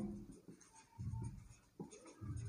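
Marker or chalk strokes scrape across a classroom board in short scratchy bursts with pauses between them, close and soft, with no talking.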